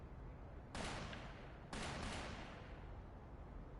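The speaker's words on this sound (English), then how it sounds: "Gunshots! From the next district!" Gunfire in the game Trails Through Daybreak II, heard as two sustained bursts of noisy, rattling shots from a neighbouring district, each lasting about a second, against a steady background.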